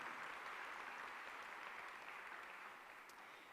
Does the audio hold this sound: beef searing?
no